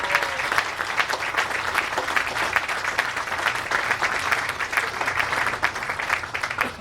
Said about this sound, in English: we should give them a big round of applause for their leadership